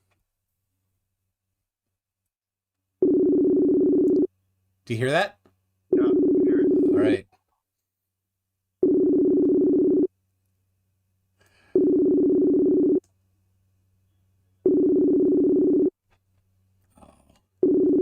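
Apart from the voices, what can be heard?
phone call ringing tone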